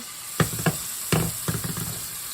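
Chopped medium onion hitting a hot pan for meatloaf muffins, with a few sharp crackling bursts of sizzle over a steady frying hiss, close and fairly loud.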